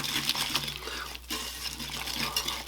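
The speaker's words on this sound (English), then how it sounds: "we're going to do is whisk this together until the gelatin of the pudding is dissolved" Pudding mix and gelatin being whisked together in a bowl, giving a wet, rhythmic swishing and clinking of the whisk, close and fairly quiet with no voices.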